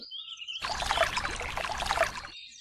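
Water poured into a glass in a cartoon, a short close trickling pour lasting under two seconds, with near silence before and after.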